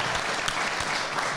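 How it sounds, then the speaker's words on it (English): Audience applause at a live car-rating show, a dense burst of many hands clapping together, loud and close, filling the whole short moment without voices. "another round of Oh, applause."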